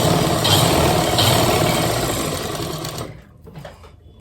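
A sewing machine stitching a wrap top runs with a steady, dense mechanical whir up close, then stops abruptly, leaving faint handling noises.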